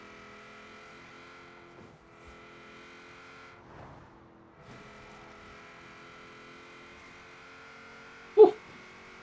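A racing car's engine in Forza Horizon 4 hums steadily at a low, even level, with a brief sharp burst near the end.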